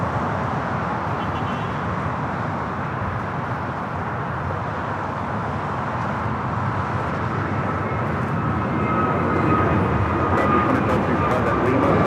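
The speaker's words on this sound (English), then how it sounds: "It looks like Air China also on the move." An Air China airliner taxies at LAX, a broad continuous low engine roar and rumble at a distance that swells slightly louder toward the end, with faint higher whine tones.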